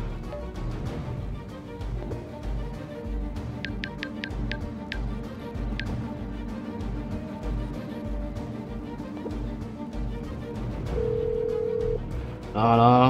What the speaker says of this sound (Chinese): 打电话呼叫 增援呢